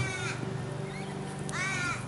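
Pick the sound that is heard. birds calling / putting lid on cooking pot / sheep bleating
birds calling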